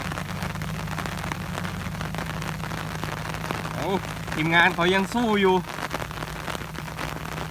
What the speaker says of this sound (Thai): ฝนตกหนักด้วยครับเมืองสุริน